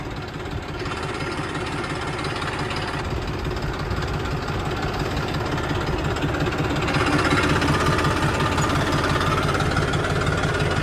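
A farm tractor engine runs steadily in a field, a loud low rumbling drone with a knocking throb that holds through the whole stretch and swells a little louder near the end, with no talk.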